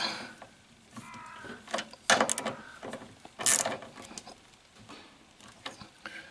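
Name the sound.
tightening the two outer parts of a bicycle crankset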